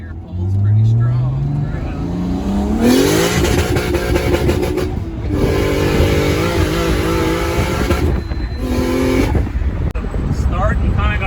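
Turbocharged M52-swapped BMW E30 325i coupe pulls hard in second gear, the engine note climbing steeply then droning loud from inside the car with brief lifts, while people talk over it.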